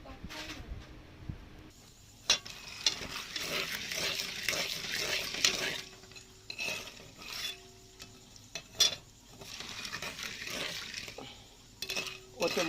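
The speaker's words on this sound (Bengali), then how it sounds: "এখন এই ভুট্টা ভাজবো, ভেজে খাওয়া হবে।" Corn kernels fry in a home kitchen pan with oil, chili powder and salt for popcorn, giving irregular stirring scrapes and metallic clinks over a soft steady sizzle.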